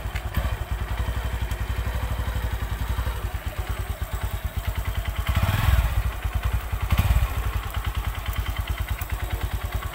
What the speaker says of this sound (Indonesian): kalau misalnya motornya kita langsung lepas koplingnya, motor ini akan mati